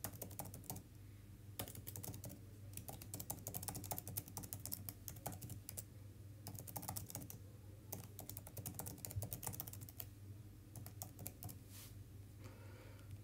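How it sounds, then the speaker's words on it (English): An email address typed on a computer keyboard, a fast, uneven patter of light key clicks with brief pauses, close but quiet, without any talking. "So in this box, I put in my email."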